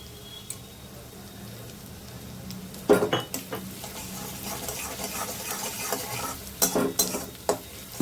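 Crushed garlic drops into onions frying in a pan, with a soft steady sizzle and a few sharp clatters of a spoon stirring against the metal.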